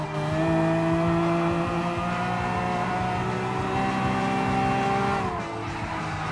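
A Lamborghini Aventador roars through the final lap of a race in Gran Turismo Sport, its engine a loud, steady, sustained whine with a slight pitch shift near the end.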